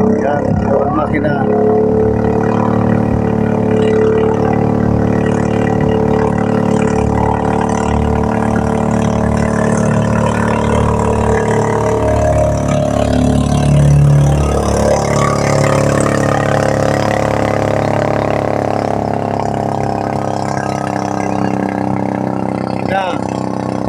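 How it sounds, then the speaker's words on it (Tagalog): The engine of a new fiberglass boat runs steadily, a loud continuous motor drone that holds throughout, with people talking over it. "Yan, ito ang makina."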